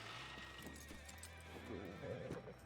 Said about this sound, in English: Why are there 3 horses?